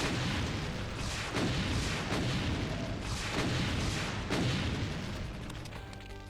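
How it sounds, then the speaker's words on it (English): Rocket launcher fired repeatedly in Doom with the Brutal Doom mod, a rapid series of heavy booming blasts about a second apart, loud and dense, overlapping into a continuous roar. "Spam fire a bunch of rockets around the corner."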